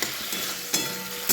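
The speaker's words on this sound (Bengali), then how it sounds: "টমেটো দিয়ে মশলাটা ভাজি" Spice paste with tomato fries in a pan, a short close sizzle with a few quick stirring scrapes punctuating the steady hiss.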